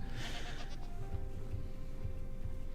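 A goat bleats in the Minecraft 1.19.4 survival game, with short repeated low calls over a noisy ambient bed and no speech.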